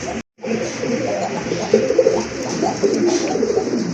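A pair of silver-coloured Giribaj pigeons coo close by in low, repeated burbling phrases, with a brief gap near the start and faint voices murmuring underneath.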